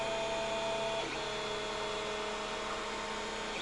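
A Creality CR-10S 3D printer runs partway through a very long print, giving a steady mechanical whir with tonal motor and fan hum, near and continuous, without speech.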